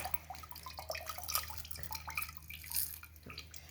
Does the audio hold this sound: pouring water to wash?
yes